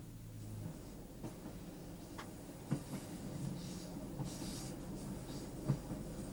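A train rolls along the Heart of Wales line near Pantyffynnon, a steady low rumble with faint rhythmic clicks and occasional soft knocks from the wheels, fairly quiet and distant throughout.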